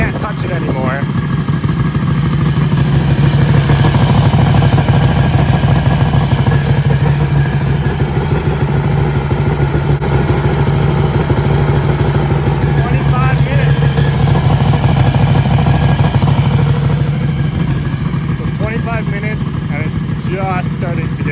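A motorcycle engine idles steadily during a long warm-up run, about half an hour in, with its clutch cover hot. The loud, even, close engine drone runs throughout, and someone talks over it.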